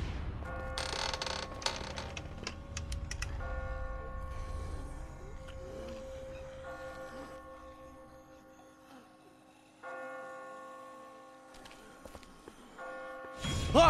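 Church bells from The Walking Dead video game ring in a steady, sustained tolling with lingering tones, accompanied by creaks and mechanical clanks, fading toward quiet before a sharp noise at the end.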